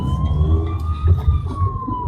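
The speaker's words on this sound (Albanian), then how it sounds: "ambulancë." An ambulance siren wails loudly on a road, its steady high tone sliding slightly over a low rumble of traffic, with no voices heard.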